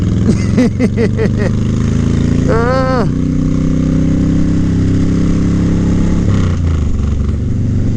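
A Suzuki C90T motorcycle engine runs loudly and steadily throughout, with a few sharp revs and pitch sweeps near the start and end.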